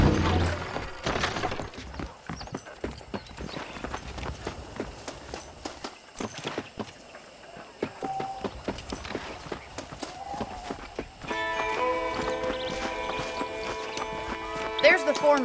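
Horse hooves clip-clopping in the Red Dead Redemption game, an irregular series of soft hoof thuds under a man's dialogue, with game music and ambience rising toward the end.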